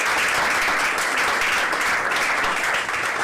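Sustained applause from an audience at a French-language reading competition, dense steady clapping filling the whole stretch at close range with no pauses.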